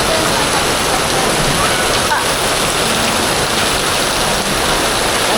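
A loud, dense rush of water sprays continuously like heavy rain, close and steady throughout.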